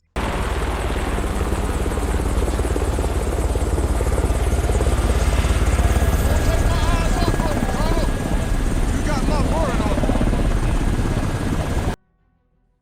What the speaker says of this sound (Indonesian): Di sini keluarga Robert pun dijemput oleh sebuah helikopter penyelamat.